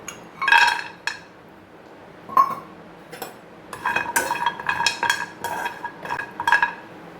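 About 100 grams of dried turmeric root is tipped into a pan to be dry-roasted for chilli powder, giving close, bright clinks, rattles and scrapes in irregular bursts with quiet pauses between.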